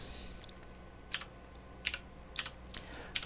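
Quiet typing on a computer keyboard, heard as a few scattered soft key clicks and short bursts of keystrokes over a low background hum, with no talk.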